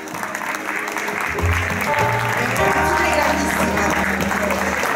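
A crowd gives sustained applause at a fanfare brass band rehearsal in Beccaio in 2016, with steady dense clapping that fills the whole stretch while voices and some tonal sounds rise over it partway through.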